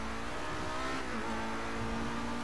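Pegassi Reaper supercar in GTA V accelerating, a loud, close engine roar rising steadily in pitch with a continuous, unbroken drone.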